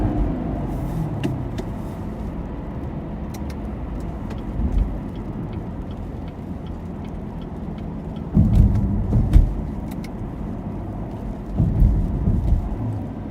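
A 2019 Camaro SS accelerates hard with a deep engine roar that swells in bursts near the end, heard from inside the car over steady road rumble.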